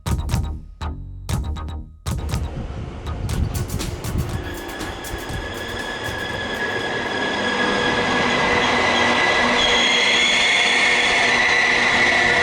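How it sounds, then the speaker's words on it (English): Train at London Euston station, starting with rhythmic clanks and thumps of wheels over track joints, then a rising steady rumble with a high squealing tone building as the train moves, loud and close. "This is the train that brought us here."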